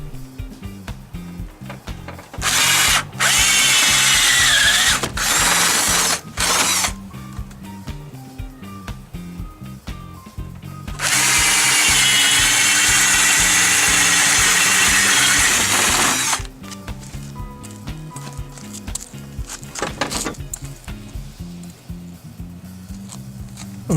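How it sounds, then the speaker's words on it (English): Power drill boring holes through a wooden gate door to fit a solid brass handle, two long loud bursts of drilling separated by quieter handling and tool noises, with no talk. "I'm going to drill some holes in the door so we can start putting the bolts in and screw the handle"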